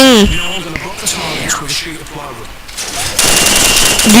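Gunfire in the video game Call of Duty 4, rapid bursts under an excited voice that keeps shouting, with a dense burst of shots near the end.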